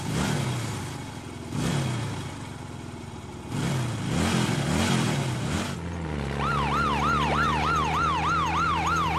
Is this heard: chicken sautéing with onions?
no